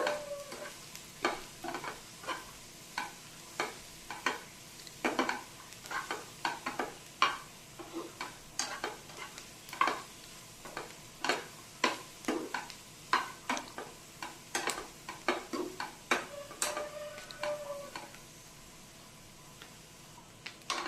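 Green beans sizzling in an oiled pan for a bean palya, with a steady run of sharp spatula scrapes and taps against the pan at a fairly regular beat over a soft fry hiss, fairly close and alone.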